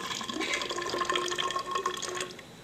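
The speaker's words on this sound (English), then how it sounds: "So you put water in there." Water splashes and trickles steadily into a graduated cylinder, close up and continuous, with no talking.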